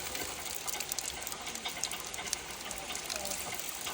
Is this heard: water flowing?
yes